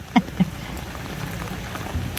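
Rain patters steadily in the background, with a couple of brief knocks near the start and a faint tap toward the end.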